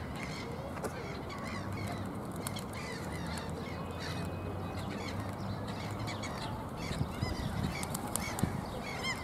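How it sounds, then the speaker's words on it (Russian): Black swans and other waterfowl such as ducks call from the water at a park pond, a dense chorus of honks and squawks repeating steadily at mid distance. "Смотри, черные лебеди."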